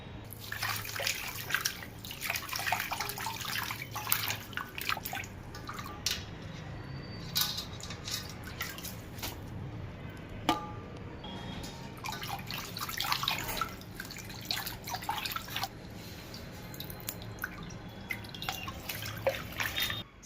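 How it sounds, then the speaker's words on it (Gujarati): Running water from a tap splashes and drips continuously, with intermittent sloshing and rustling as coriander and mint leaves are rinsed under the flow. "હવે ધોઈ નાખીએ પાનને ધોઈ નાખવાના"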